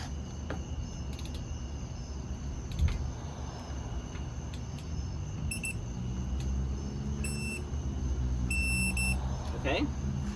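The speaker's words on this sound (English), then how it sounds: "It went straight to the rapid beeping." A digital torque wrench set to 80 foot-pounds, used on a Honda Accord brake job, emits quick bursts of thin, high beeps over low background rumble and soft shuffling.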